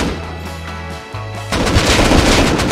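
Rapid gunfire in the survival video game Rust, with low tonal hum that gives way at the midpoint to a loud, dense burst of overlapping shots that continues steadily to the end.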